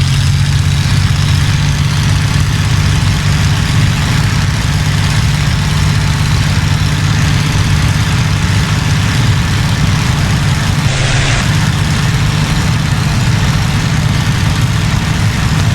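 A Spitfire's piston engine in a flight sim game, idling with a loud, steady low rumble that runs without a break as the plane begins to roll.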